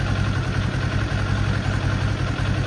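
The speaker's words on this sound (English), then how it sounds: "turn on the bike and be sure it's got proper idle, which should be around 1300 RPMs" A Kawasaki Ninja 500 motorcycle idles around 1300 RPM after a break-in service, a steady, close, even engine hum throughout the short stretch, with no speech.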